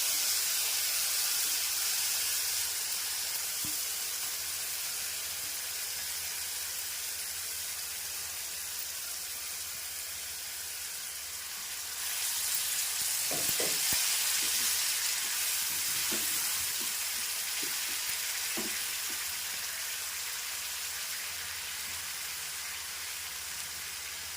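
Loud, steady sizzling of tomato paste frying in a hot pan, with a brief surge in the hiss midway and a few soft clinks of stirring.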